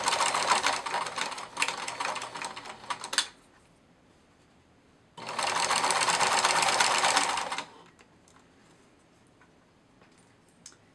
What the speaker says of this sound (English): I also recommend using your seam ripper to hold it in place while you're feeding the fabric through.